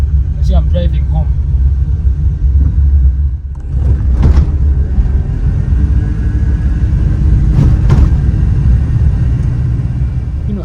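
A car driving on the road, heard from inside as a steady low rumble of engine and road noise that runs the whole way through, with a voice talking over it.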